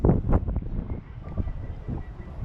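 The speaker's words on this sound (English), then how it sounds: "The wind is blowing" Wind gusts at a hilltop lookout over Portoviejo, Ecuador, buffeting the microphone in low, uneven rushes that swell and ease across the moment, with no voices over it.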